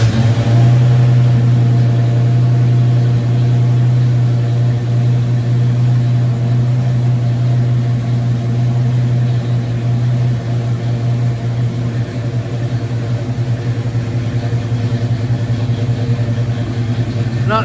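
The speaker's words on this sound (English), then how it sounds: "We're going to give you guys a cold start since we haven't cranked this up in a couple of days." A Chevrolet Silverado truck engine on a cold start after sitting a couple of days runs loud and close, a steady low drone with a strong hum that barely changes across the whole span.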